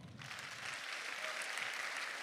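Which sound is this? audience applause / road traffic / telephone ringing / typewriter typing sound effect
audience applause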